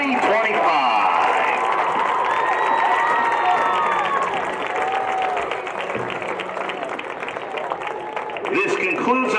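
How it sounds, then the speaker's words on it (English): A large outdoor crowd at a high school football senior night applauds and cheers for the Maysville Class of 2025, a dense steady roar of clapping and shouts throughout, with voices talking over it. "please join us in one final heartfelt round of applause in celebration of the Maysville Class of 2025"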